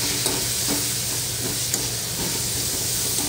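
Soaked peanuts go into a hot pan of softened, salted tomatoes for Maharashtrian eggplant bharit, giving a steady, close sizzling hiss with faint stirring scrapes throughout.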